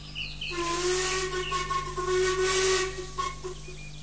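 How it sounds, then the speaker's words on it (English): A steam locomotive whistle blows a long, loud, slightly wavering tone with hissing steam around it, fading out near the end. "he heard a whistle he had never heard before"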